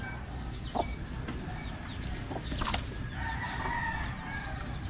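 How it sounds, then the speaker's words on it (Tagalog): Chickens being fed grain, clucking steadily with a few brief crows or calls rising above a busy farmyard background, close by and fairly loud throughout. "Napatukan na natin ang mga manok."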